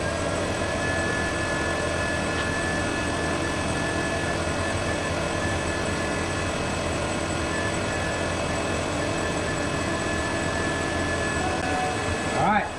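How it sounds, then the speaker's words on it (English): A laser engraver's air assist and exhaust fan run together as a loud, steady drone with constant whine tones, unbroken throughout and no speech. "So I'll turn on my air and my exhaust, and then we'll run it one more time."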